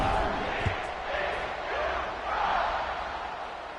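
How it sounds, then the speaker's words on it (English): A stadium crowd at a football game buzzes after a touchdown, a broad, rolling murmur of many voices rising and falling at a distance, fairly soft and continuous. "this crowd is buzzing after that last score"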